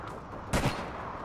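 A single sharp gunshot goes off in the online shooter game APB Reloaded, a short crack that rises briefly above quiet background noise and is over almost immediately.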